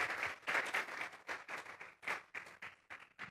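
A church congregation claps as an offering of praise to God, a fairly quiet, moderately distant round of applause that swells and dips in uneven waves and thins toward the end.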